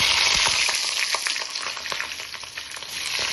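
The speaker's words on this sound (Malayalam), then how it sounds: "ഉണക്കമുളക് വറുത്തതിന് ശേഷം അതിൻ്റെ അകത്തോട്ട് രണ്ട് ഉള്ളി ഇട്ട് കൊടുക്കാം" Onions sizzle in hot oil alongside dried red chillies, a steady loud frying hiss with small crackles and occasional stirring, close up with no voices.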